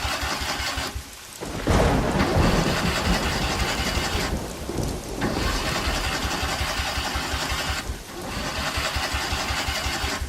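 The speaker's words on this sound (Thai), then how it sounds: "เมื่อรถสตาร์ทเครื่องติด" A car engine turns over and catches, then runs with a steady, loud, low rumble that swells and dips a few times, with no voices.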